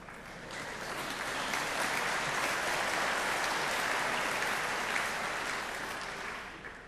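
Soft, distant-sounding applause fills a university graduation ceremony hall, swelling in gently, holding as an even wash of many hands, then tapering slightly at the close, with no voices over it.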